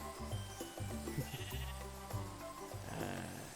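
Sheep bleat a few times amid layered game music and effects, the calls moderately loud and wavering.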